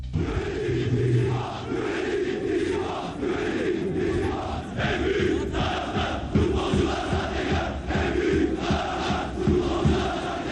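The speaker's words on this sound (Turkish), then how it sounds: "Maça gelenlerse sürekli futbolcular ve yönetim aleyhine tezahürat yapıyordu." Beşiktaş football fans at a 1997-98 stadium match against Gençlerbirliği chant in protest against the players and management, a dense, continuous roar of massed voices filling the stands with steady rhythmic swells.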